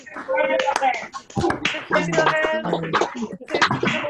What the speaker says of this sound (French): à go, on va applaudir en même temps